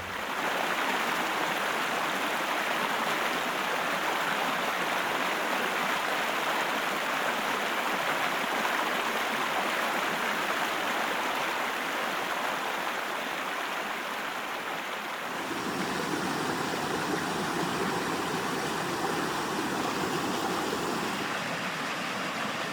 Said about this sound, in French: nous arrivons près d'un ruisseau pour nous rafraîchir